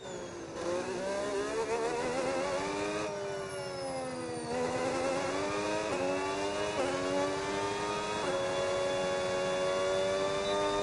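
Race car engine in a racing video game, steady high whine rising through repeated gear changes as the car accelerates, loud and continuous with no talk.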